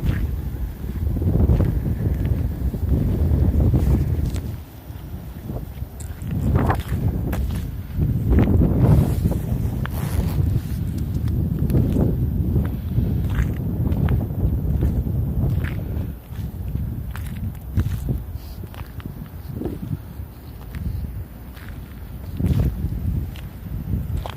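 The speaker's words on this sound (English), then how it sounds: "it is a little bit windy here today." Steady wind buffeting a microphone outdoors at Grove Street Cemetery in New Haven, Connecticut, a continuous low rumble with uneven gusts and occasional thumps, loud and close throughout.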